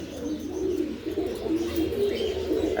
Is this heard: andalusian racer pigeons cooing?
yes